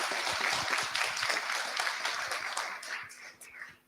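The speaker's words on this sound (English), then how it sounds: "one last clap" Audience clapping at a live science teachers' meetup, a dense patter of many hands that holds steady and then thins out and fades near the end, with a voice or two mixed in.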